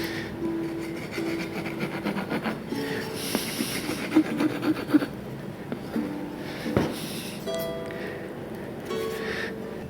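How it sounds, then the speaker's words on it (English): A keyhole saw cuts slots into the wooden headstock of a guitar being repaired, producing steady rhythmic rasping strokes at close range, with short pauses between runs of sawing. "I've got a keyhole saw to now start cutting down the lines there."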